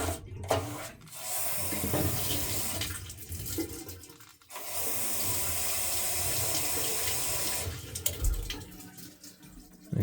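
Water rushes and splashes down into a drain pipe during a plumbing install of a dishwasher, water heater and toilet, a loud steady flow with two brief breaks, no talk.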